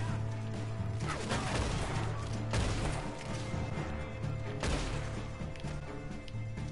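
Gunfire in Red Dead Online, a bank robbery shootout, with several sharp loud shots spaced a second or two apart over a dense background of game noise.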